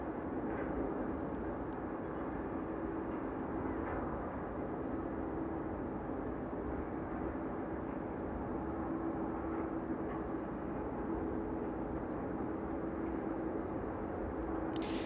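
Aircraft at East Midlands Airport runway, a steady broad roaring jet rumble with a faint tonal hum, constant in level throughout, no voices.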